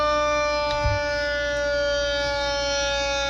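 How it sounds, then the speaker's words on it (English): Mechanical Q siren sample modeled on the EQ2B, a steady high wailing tone holding level throughout, fairly quiet and heard alone. "So the Q sound that I've decided to go with sounds something like this."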